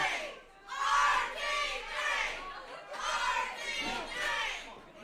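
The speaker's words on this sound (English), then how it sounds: "these fans are letting JDL know who they're cheering for" At a live combat sports fight event, fans shout and cheer in swelling waves of crowd noise, loud and rising and falling several times, with voices chanting over the arena.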